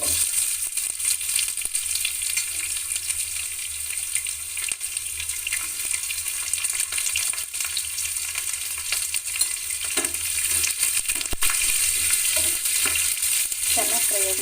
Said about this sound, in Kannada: ಇವಾಗ ನಾನು ಇದಕ್ಕೆ ಈರುಳ್ಳಿ ಹಾಕ್ತೀನಿ.